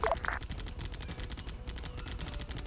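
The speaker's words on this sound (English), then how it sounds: "I'm trying to get the MG hog to deal with it." Sustained rapid automatic fire from the mounted machine gun on a Halo Warthog in a multiplayer video game, a steady rattling stream over busy battle noise, with no talk.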